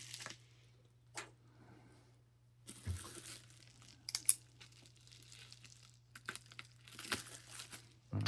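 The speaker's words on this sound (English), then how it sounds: "So we got a bunch of tape to cut here" Packing tape on a bubble-wrapped package being cut, giving sparse, quiet scrapes and tearing crackles in separate short bursts over a faint steady hum, close up.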